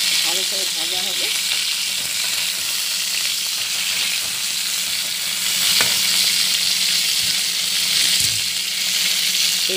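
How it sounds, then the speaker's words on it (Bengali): Large-cut eggplant pieces fry and sizzle in a hot pan as they are stirred in with other vegetables, giving a continuous close crackle and hiss with scraping spatula strokes and a brief voice at the start. "বেগুনটাও দিয়ে দেবো একসাথে, সব একটু সাঁতলাতে হবে, ভাজা করবো।"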